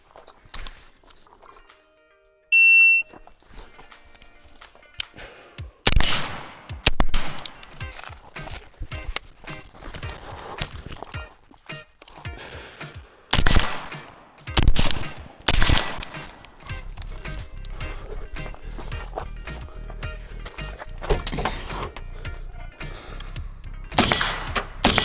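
Pistol gunshots fired at a range against a shot timer, a series of sharp loud cracks spaced irregularly, with bursts clustered together and some rapid strings, over outdoor background noise.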